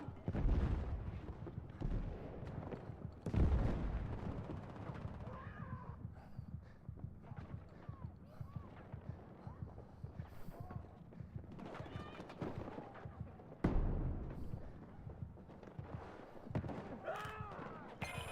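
Heavy gunfire and booming explosions from a Battlefield video game battle, a dense, continuous barrage with repeated loud blasts and sharp shot bursts throughout, voices faintly mixed in.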